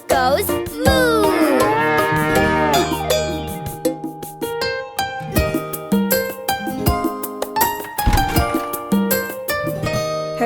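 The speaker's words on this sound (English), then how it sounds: "And she goes moo." A cartoon cow's loud, sustained moo rings out within a bright children's nursery rhyme song, sounding over cheerful music and percussion from start to finish.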